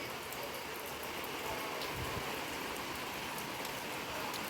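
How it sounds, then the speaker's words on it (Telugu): Rain pours steadily under a white, cloud-covered sky, a dense, even hiss with scattered drops patterning on surfaces nearby and no voices. "మీ దగ్గర కూడా వర్షం వస్తుందా అండి"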